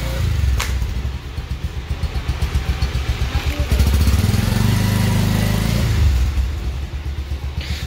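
A motorcycle engine rumbles steadily on a village outing, rising slightly in intensity partway through and holding a continuous low drone close by, with no talking.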